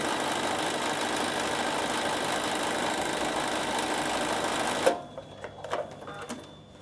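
An overlocker running a single overlock stitch gives a fast, steady mechanical whir for about five seconds, then stops, leaving a few light clicks and handling noises.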